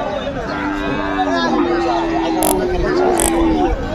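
A water buffalo at a livestock market gives a long, drawn-out moo close by, with a babble of people talking in the background.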